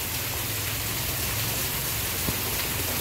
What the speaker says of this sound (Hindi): इतना तेज़ी से बारिश हो रहा है